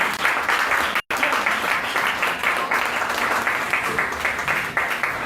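A church congregation at a French-speaking Sunday service applauds together, a dense, steady clapping that fills the room for about five seconds, with a brief cutout near the start.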